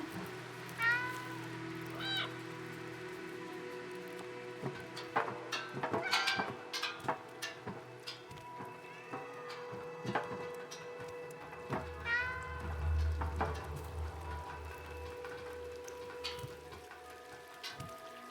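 Repeated cat meows in the video game Stray over steady rain pattering on a surface, with scattered sharp clicks and a low rumble partway through.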